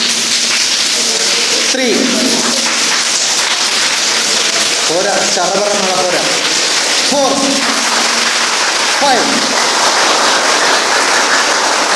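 A class of tenth-grade students claps with their fingers to imitate rain, producing a dense, steady patter of soft claps throughout, while a teacher's voice speaks over it.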